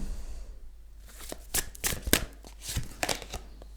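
Tarot cards are pulled from a deck and laid down in a quick series of crisp, close papery flicks and slaps, irregular in rhythm, with a quiet room behind them.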